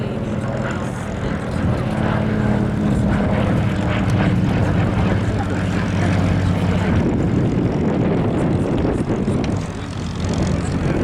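A Lockheed 12A Electra Junior, a civilian propeller aircraft at a Battle of Britain air show, roars loudly and steadily overhead with a droning engine note that shifts in pitch as it passes, no talk.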